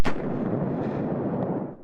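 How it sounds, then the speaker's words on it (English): A deep, booming blast from an exploding Ukrainian military ammunition depot, a single heavy report that rumbles and decays over about two seconds, with no voices. "Explosions were hitting a military ammunition depot at a rate of 2 to 3 seconds"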